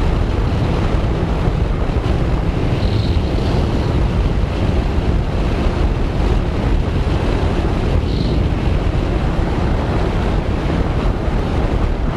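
Strong wind rushes continuously across the microphone while cycling along a road in the rain, a dense, steady roar with no speech.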